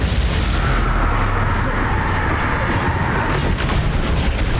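Confringo blasting spell explosions in Hogwarts Legacy, Dark Arts combat on Nintendo Switch: a loud, dense barrage of booms and bursts rumbling continuously and up close, with no clear gaps between blasts.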